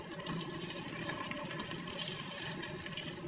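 Water is poured into a cooking pot for sinigang with a tanigue fish head, producing a steady, soft, continuous splashing fill heard fairly faintly without any talk.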